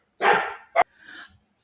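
A dog barks indoors after a doorbell, one loud close bark, a short sharp second yip, then a fainter whine trailing off.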